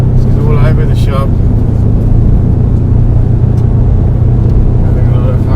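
Ford Ranger Raptor Special Edition pickup driven fast on a gravel road, a constant loud rumbling engine and road roar heard from inside, with a voice briefly speaking over it early on.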